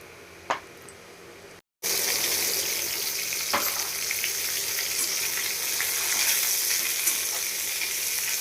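Ridge gourd frying in oil in a wok with chillies and panch phoron: after a quieter start with one metallic clank and a brief silent gap, a loud, steady sizzle runs to the end with light stirring sounds.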